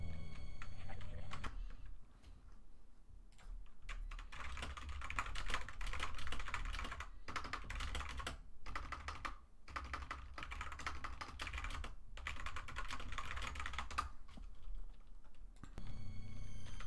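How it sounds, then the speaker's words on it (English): Rapid typing on a computer keyboard while chatting on Discord, a busy clatter of keys in bursts with brief gaps, layered over a low background hum from a game. "I was typing on Discord"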